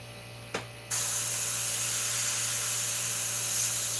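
An Iwata CM-SB airbrush spraying Createx paint onto Claybord gives a steady, close airy hiss that starts after a brief click and holds evenly over a faint electrical hum.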